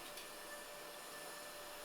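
A vacuum pulls up glass dust during repair of chipped glass, a steady, even broadband whoosh with a faint whine, constant and close, with no talking.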